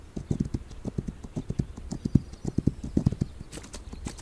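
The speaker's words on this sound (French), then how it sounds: "mon cheval suit" Horse hooves clip-clopping at a steady walking rhythm in the video game This Land is My Land, close and clear, with repeated crisp hoof strikes and no talking.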